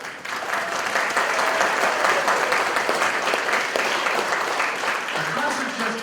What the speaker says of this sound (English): Your applause has just been wonderful all afternoon.